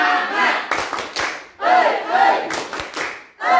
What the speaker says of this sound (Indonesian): Sebelumnya ya, tepuk semangat.